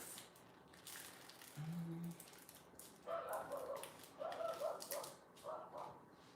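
Dogs bark in a series of short, sharp bursts at moderate distance, with a brief low whine early on before the barking picks up.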